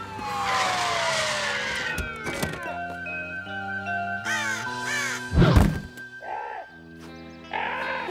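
Cartoon bird caws repeatedly amid slapstick effects, with a descending whistle, thuds, a crash and squeaky toon sounds at a car wash, loud and close.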